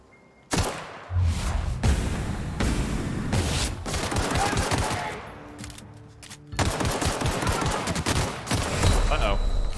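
Bursts of video-game gunfire in The Outer Worlds, rapid shots and heavy thuds starting after a short pause, fading mid-clip, then a second dense volley near the end, with a voice briefly under the shooting.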